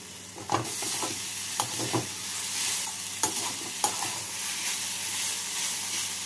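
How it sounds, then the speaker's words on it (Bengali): Chopped coriander being stirred into carrots in a frying pan, a steady sizzle under scraping strokes of a spatula, with a few sharper knocks against the pan, close and continuous with no talk. "ধনেপাতা দিয়ে ভালো করে মিশিয়ে নিচ্ছি।"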